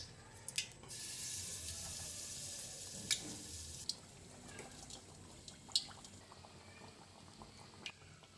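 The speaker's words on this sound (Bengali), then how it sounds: "১ চামচ ব্যাটার উঠিয়ে তেলের মধ্যে আস্তে ছেড়ে দিলাম" Steady bubbling hiss of pua pitha batter frying in hot oil, with occasional sharp pops and crackles rising above the continuous sizzle.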